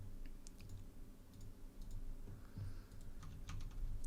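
Computer keyboard keys clack in quick, irregular bursts while entering Blender shortcuts, close and fairly faint, with no speech over the typing.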